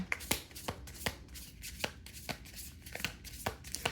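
Tarot cards are shuffled by hand at close range. Crisp riffling snaps repeat in a steady rhythm over a soft, continuous papery rustle.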